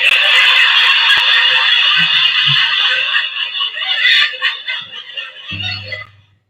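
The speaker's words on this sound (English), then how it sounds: "my laugh track also doesn't sound like laughter" A novelty laugh-track sound effect that comes out as a steady rushing, hissing wash, like a flushing toilet, loud for about five seconds and then thinning and trailing off, with a brief low thump near the end.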